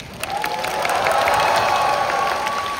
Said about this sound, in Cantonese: 大家俾一次掌聲似人哋